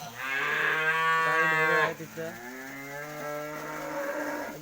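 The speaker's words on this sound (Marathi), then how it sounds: "हे बघा गाई आहे" A cow lets out a loud, drawn-out moo nearby, then a second lower, longer moo follows; a brief word is spoken between them.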